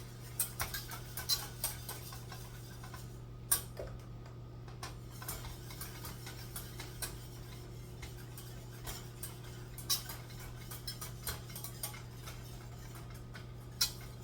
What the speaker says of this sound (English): you want to whisk it until it gets kind of bubbly